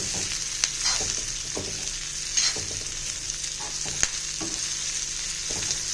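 Anchovy dry fish (nethili karuvadu) frying in oil with big onions, a steady close hiss of sizzling with scattered sharp pops and stirring scrapes over six seconds, no voices.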